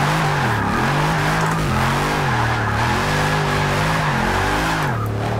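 Dodge Challenger Hellcat drifting in Forza Motorsport 6, a loud continuous engine roar with pitch swinging up and down as revs rise and fall through the slide, steady and close throughout.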